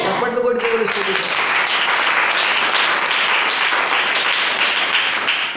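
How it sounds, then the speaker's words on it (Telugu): Worshippers in a church clap together in praise, a loud, dense, sustained burst of applause; a voice is briefly heard at the very start. "చప్పట్లు కొట్టి దేవుని స్తుతించండి."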